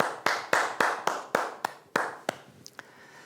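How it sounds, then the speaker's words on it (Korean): A church congregation gives a round of applause during a Sunday worship service. The claps come as separate sharp, rhythmic bursts that thin out and fade toward the end. "우리 찬양 받으신 하나님께 다시 한번 큰 영광의 박수 올려드립시다"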